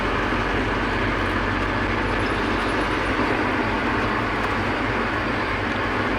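Steady, dense road rumble and wind roar from inside a pickup truck cruising on a highway, constant and loud with no break.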